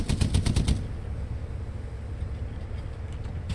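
An MG34 machine gun fires in the video game Hell Let Loose, giving a short rapid burst of shots at the start before a rumbling engine drone takes over.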